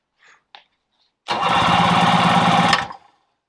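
After a couple of faint clicks, a long-unused jet ski engine sputters to life with a loud, rough roar for about a second and a half, then cuts off.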